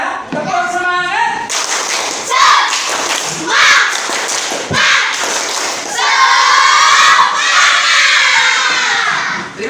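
Children in a classroom clap and shout a rhythmic group chant, bursts of hand claps and voices mixed with thumps, loud and close throughout, with a teacher's voice near the start.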